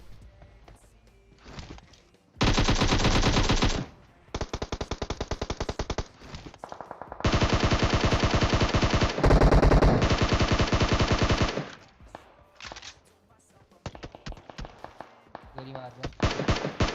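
Video-game gunfire rings out in loud bursts of rapid automatic shots, with several long volleys split by short lulls and quieter scattered shots near the end.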